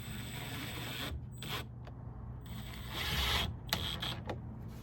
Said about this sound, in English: we're going to go ahead and screw one of these in to get it set